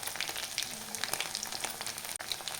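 Chicken kebab deep frying in hot oil, a dense, continuous bubbling crackle with scattered pops and a brief dip near the end, close and fairly loud, no speech.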